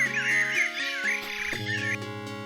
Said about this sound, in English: Oh my god, the birds are so loud.